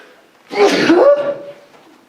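A single loud sneeze bursts out up close, a sharp breathy explosion followed by a brief trailing vocal sound.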